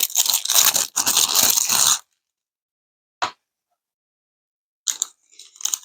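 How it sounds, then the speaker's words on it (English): A pizza slice cookie decorating kit package is torn open with about two seconds of crinkly plastic ripping, then a single short rustle and a couple of faint crinkles after a pause. "First thing we're going to do is we're going to open our pizza slice."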